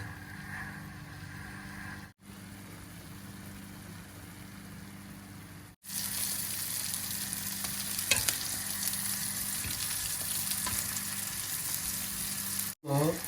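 Sausage frying in oil in a pan at home, giving a steady close sizzle that grows louder and denser partway through, with short pauses and faint clinks of stirring.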